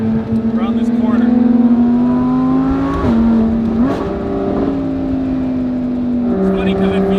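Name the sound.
Audi R8 Performance cornering on a backroad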